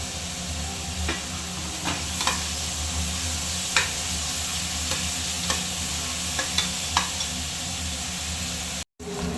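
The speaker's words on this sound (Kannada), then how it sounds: "ಈರುಳ್ಳಿ ಚೆನ್ನಾಗಿ ಫ್ರೈ ಆಗಿದೆ." Sliced onions stir-fried in hot oil for biryani, a steady close sizzle broken by repeated scraping strokes of a spatula against the pan, with no voices.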